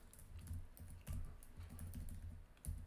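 Steady, fast typing on a computer keyboard while coding a MERN web app, with continuous close keystroke clatter and a few louder key hits, no voices.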